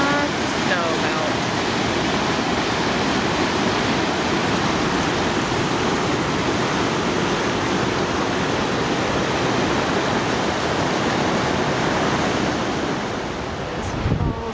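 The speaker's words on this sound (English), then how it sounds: "There's Ingalls Creek, tumbling down to hit Ingalls Creek" Ingalls Creek, swollen with snow melt, rushes and tumbles in a steady, loud broadband roar of whitewater along a mountain trail, constant throughout with some wind noise on the microphone.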